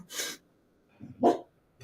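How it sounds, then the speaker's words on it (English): A dog indoors gives two or three short, sharp barks with quiet breathing between them, close and moderately loud, with no talk. "The dog was making it hard to focus."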